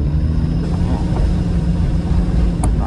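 A Mitsubishi Pajero engine rumbles steadily up close from inside the cabin, a low continuous drone with no voices.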